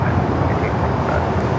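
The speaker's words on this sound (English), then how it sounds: "That was JetBlue Flight 800 taking off to Fort Lauderdale on the A321." A JetBlue Airbus A321 roars on takeoff at LAX, a steady broadband engine rumble that stays loud and unbroken throughout with no pause or voices over it.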